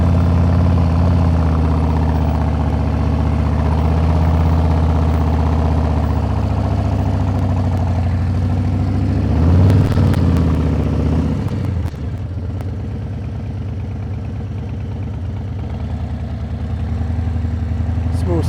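A 2023 Harley-Davidson Breakout V-twin rumbles steadily at low speed through a slow right turn, a loud close engine drone with a brief swell and a dip near the end.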